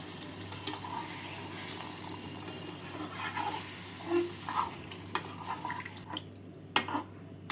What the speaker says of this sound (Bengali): জল দিয়ে ভালো করে নাড়াচাড়া করে নেব